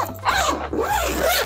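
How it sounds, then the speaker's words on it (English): A zipper being pulled closed on a Calpak carry-on suitcase, a close, loud rasping run in several quick strokes over about a second and a half. "Let me zip this up just so you can accurately see."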